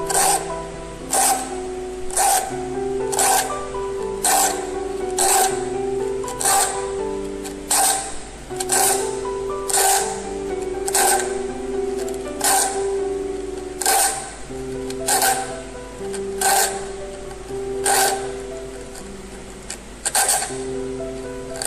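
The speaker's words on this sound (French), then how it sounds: "Il ne faudra pas oublier d'affûter la dernière dent." A hand file sharpens the teeth of a veneer saw with regular, evenly paced rasping strokes, about two a second, close and crisp, repeating steadily throughout.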